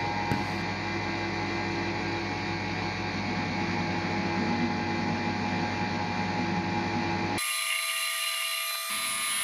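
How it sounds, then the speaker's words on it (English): A Syil Mini CNC mill roughing out a tool holder shank, a constant high-pitched whine with steady cutting hum, close and continuous, shifting abruptly in tone near the end. "This is a high-speed section showing me roughing out the tool holder shank."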